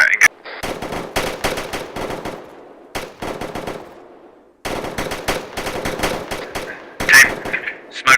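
Rapid gunfire during a military training drill, with several close, loud bursts of automatic shots separated by short pauses and brief gaps of decaying echo.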